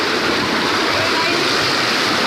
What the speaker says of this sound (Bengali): দেখো এইটা দিয়ে জলটা বেরোচ্ছে